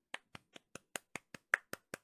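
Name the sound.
applause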